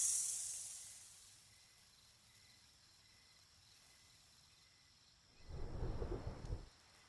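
Thunder rumbles once, loud and near, over a faint steady hiss of rain at the start of the desert rainy season, with a soft high insect hiss fading early.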